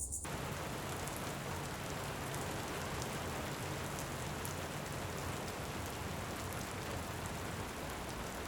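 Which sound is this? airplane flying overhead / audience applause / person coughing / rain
rain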